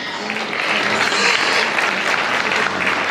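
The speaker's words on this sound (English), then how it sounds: "we'll give everyone a big round of applause as they exit the ring" A county fair hog showmanship crowd claps as exhibitors leave the show ring, a loud, even burst of applause carrying on without a break, with some crowd murmur beneath.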